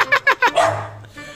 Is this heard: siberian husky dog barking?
yes